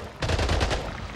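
Pistol gunfire in the video game Splitgate: a quick, loud burst of several rapid shots packed into under a second.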